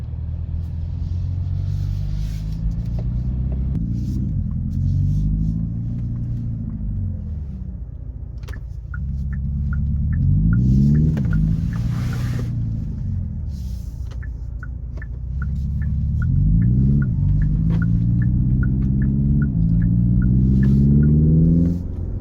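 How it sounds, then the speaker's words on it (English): A Hyundai Ioniq 5 N electric car's engine note rises and falls in repeated surges as it accelerates, a deep synthetic revving rumble up close, with no talking. "You accelerate just a little bit, you can hear it."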